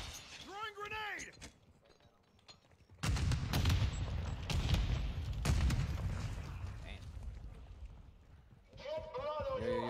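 A grenade is thrown in the video game Warzone, setting off loud, sudden booming bursts and crackling blasts amid the gunfire, while players chatter before and after.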